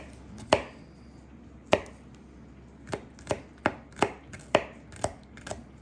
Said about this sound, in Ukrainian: Закришили наш часничок та зелень.